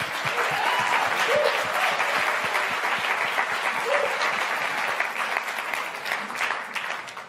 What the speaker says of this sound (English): Give it up for Chip Lurwick again